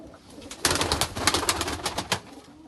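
Pigeons coo at a pigeon breeding club, a close, loud chorus of throaty, rolling calls overlapping in quick succession over a soft background murmur.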